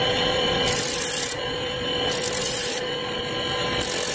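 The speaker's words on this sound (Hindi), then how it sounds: "पहले आपको ड्रिल करके और ग्राइंड करके दिखाते हैं।" A grinding machine finishes the edges of slippers with a continuous abrasive rubbing and sanding drone, its pitch shifting in repeated passes as the sole edge is worked, with no talking.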